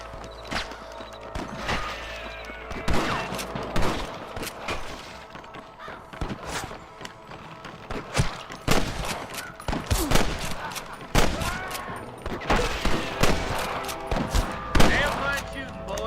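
Gunfire in the Red Dead Redemption Western video game: repeated sharp shots and bursts crack out irregularly throughout, some near and loud, some quicker volleys, over a busy background with crow-like caws and hoof clip-clops.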